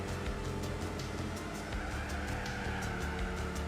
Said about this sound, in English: I'm hearing more than one car right behind me